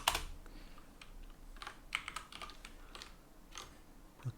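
Computer keyboard being typed on during a programming session, a quick run of close, crisp key clicks with short pauses between bursts, heard alone without talk.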